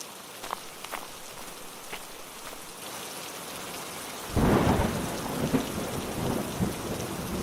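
Quiet scattered drips give way to a sudden burst of heavy monsoon rain and rumbling thunder that stays loud and steady, in a cartoon.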